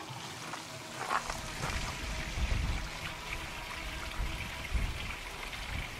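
Water draining from an RV trailer's holding tank valve in cold weather, a steady rushing, trickling flow that continues throughout, fairly close and alone.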